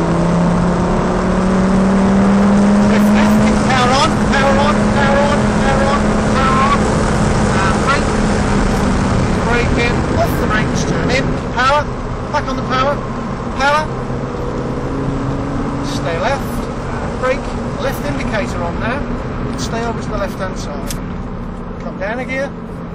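A Lamborghini Gallardo engine runs at full power climbing a hill, a loud sustained roar with rising and falling revs, while someone talks over it throughout.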